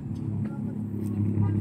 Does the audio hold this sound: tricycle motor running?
yes